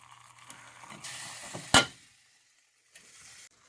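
Butter sizzling in a hot vintage 1970s West Bend Odds'n Eggs egg poacher pan, a faint hiss with a sharp metallic clatter midway, then a brief return of sizzling; quiet and close.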